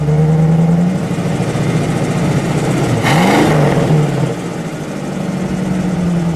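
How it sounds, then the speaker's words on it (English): A 1967 Mercury Cougar XR7 engine with a single exhaust idles loudly, then is revved once, the pitch swooping up and falling back before settling into a rumbling idle again. "give it a little rev."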